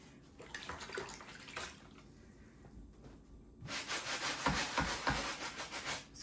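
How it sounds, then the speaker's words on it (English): A scrub brush works over a foamy, soapy surface during spring cleaning, giving rhythmic close rubbing strokes that start soft and grow louder and denser in the second half. "So all I'm doing is just taking the scrub brush on the areas that were"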